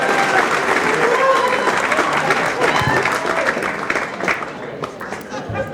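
Steady applause from a comedy club audience at Gotham Comedy Club as a young comedian is welcomed to the stage, dense clapping with some crowd chatter that holds across the whole stretch and eases slightly near the end.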